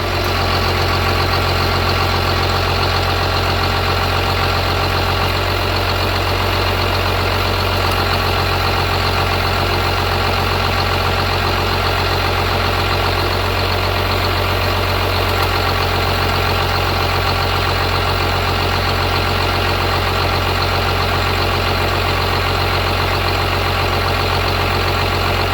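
A second-generation Dodge Ram engine idles steadily with the air conditioning compressor running, giving a constant, loud, close mechanical drone and rattle with no talking.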